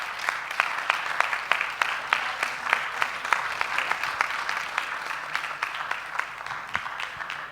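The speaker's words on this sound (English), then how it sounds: "Can we give them a proper round of applause?" An audience at an education festival claps steadily and fairly loudly for several seconds, a dense even patter of many hands with no talk over it.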